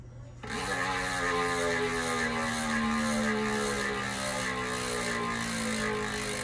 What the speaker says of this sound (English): Now we're gonna do a FREEHUB body sound test on this.